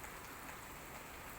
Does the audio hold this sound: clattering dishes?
no